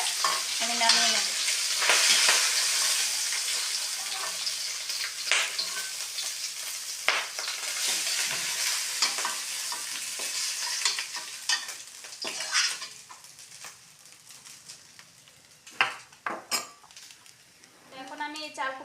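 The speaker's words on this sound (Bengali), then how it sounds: "তো আমার মাছের মাথা ভাজা হয়ে গেছে" A rohu fish head fries in a pan with a close, bright sizzle and repeated scrapes and metallic clinks of a spatula stirring against the pan.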